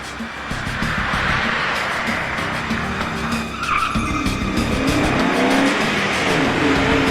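A metallic grey Cosworth drives past on a 1990s road. A loud engine roars close by, with tire skid and squeal noise and a brief change in pitch midway as it goes by.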